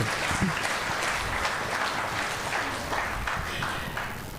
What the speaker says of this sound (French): Acclamons très fort pour la gloire de notre Seigneur Jésus-Christ